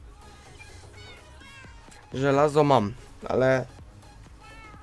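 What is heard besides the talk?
cats meowing in video game Minecraft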